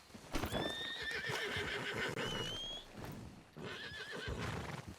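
Horses in the game Red Dead Redemption 2, with steady clip-clop hoofbeats and loud whinnies and neighs rising over the trotting, close and busy throughout, pausing briefly near the middle.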